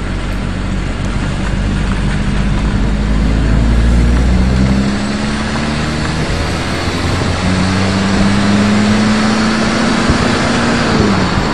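A caravan converted to a diesel engine drives along, its engine drone steady and close, the pitch rising and shifting as it pulls and changes speed.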